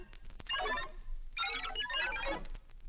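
Electronic computer sound that marks a page turn on a 1982 Disney TRON read-along record: two bursts of bright, warbling, ringing bleeps separated by a short gap, loud and alone with no talk.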